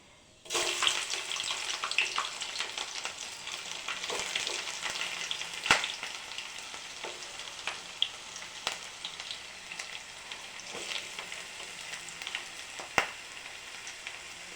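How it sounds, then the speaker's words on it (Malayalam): Ginger and garlic frying in hot sesame oil with mustard seeds give a steady close sizzle dotted with sharp pops and occasional stirring clinks for about fifteen seconds, without talk. "കടുക് പൊട്ടിയിട്ട് അതിനകത്ത് നമുക്ക് ഇഞ്ചിയും വെളുത്തുള്ളി ഇട്ട് കൊടുക്കാമേ."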